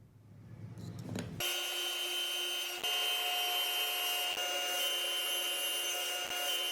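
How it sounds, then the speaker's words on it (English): A Laguna PX16 planer runs a board through, starting with a brief rise and then holding a loud, steady tonal whine with a few short dips. No voices. "After raising the planer, I could run my board back through and do a test"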